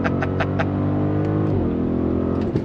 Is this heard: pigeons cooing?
no